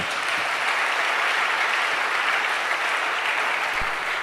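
A church congregation applauding, a dense, even wash of many hands clapping that holds steady for several seconds, loud and filling the room.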